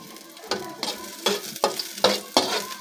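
Garlic frying in hot oil in a pan, with a loud close sizzle and about six rhythmic scraping stirs roughly every half second, no speech.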